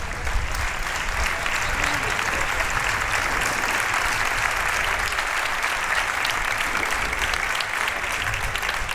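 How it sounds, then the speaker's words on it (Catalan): Sustained, even applause from a concert audience for a band director at a closing music concert, the dense clapping filling the space steadily with no voices over it. "El meu director, Adrián Garrido, un fort aplaudiment per ell."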